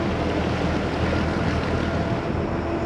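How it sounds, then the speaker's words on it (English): A 1999 Tiara 3500 Open cruiser running on twin CAT 3116 diesel engines while leaving a creek, giving a loud, steady low drone mixed with wind and water rush, with no talking. "Transmission and engine sound healthy. No overheating issues."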